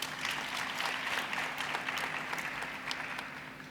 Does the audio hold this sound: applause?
yes